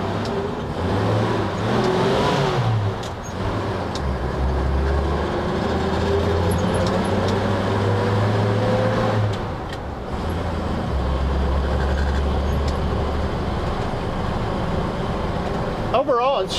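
Steady engine drone and road rumble from a moving 1948 Chevy 3100 half-ton three-window pickup truck, with the low hum rising and falling as it drives, continuous throughout.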